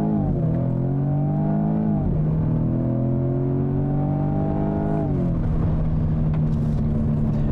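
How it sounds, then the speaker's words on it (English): A 2021 Jaguar F-Type engine revs up after a downshift, with a loud, close, steady drone whose pitch climbs, dips as the gear changes, then climbs again, with no talking over it. "A little downshift there to see what that sounds like."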